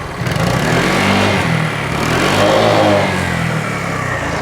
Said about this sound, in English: it does sound pretty funky if you rev it with the traction control system on